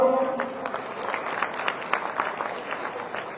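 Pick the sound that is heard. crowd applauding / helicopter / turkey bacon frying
crowd applauding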